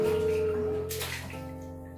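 Bath water moves and splashes as a child settles down into a tub, with a brief burst of sloshing partway through over a steady watery background and no talk.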